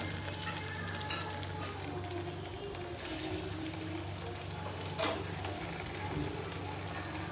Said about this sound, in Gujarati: તો આપણે ફટાફટ આને તળી લેશું.